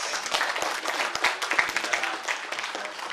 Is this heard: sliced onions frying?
no